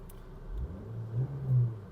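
A Volkswagen Golf 4 engine runs at a steady idle, a low close rumble with slight swells, with no talk over it.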